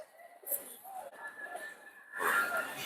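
Domestic pigeons coo softly at a busy pigeon market, a few low murmuring calls repeating against a faint background of crowd noise and distant voices.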